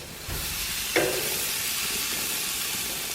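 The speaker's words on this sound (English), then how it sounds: "You already heard the bottom searing" A venison roast searing in a hot pan at a deer camp, giving a steady loud sizzle and hiss with a brief sharper spatter near the start, no talking over it.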